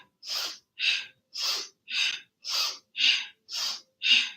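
Eight rhythmic, forceful breaths pumped in and out through the nose during a vinyasa yoga session, each a short hissing burst evenly spaced with brief silences between, close and clear with no talk.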